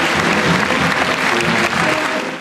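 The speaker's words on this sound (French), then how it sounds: "je vous demande de les accueillir et les applaudir, Juan Diaz Canales et Juanjo Guarnido." Hall audience applause welcomes comic-book authors at an event held in an abbey, loud, dense and continuous clapping filling the whole short stretch.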